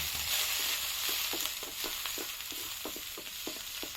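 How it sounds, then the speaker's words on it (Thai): Pork fat rendering in a pan over medium heat with a little water added, a steady loud sizzle with scattered crackles and pops, close and continuous, no voices. "ผมชอบที่จะใช้น้ำมันหมูนะครับ ใช้ไฟกลางในการผัดนะครับ"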